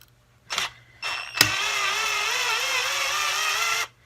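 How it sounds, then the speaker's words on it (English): SnapFresh 20V cordless drill driver loosening a screw: a brief click, then a steady whirring motor hum running for about two and a half seconds before cutting off, close and alone. "let's take this screw out of here right now that we need to remove"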